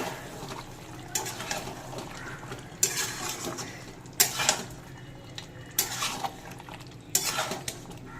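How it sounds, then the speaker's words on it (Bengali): Chicken curry is stirred in a pot after the lid comes off, a quiet run of metal utensil scrapes and clinks against the pot, with a few louder knocks spaced through the stretch and no speech. "ঢাকা খুলে নিয়েছি, এবার একটু নেড়ে নেব।"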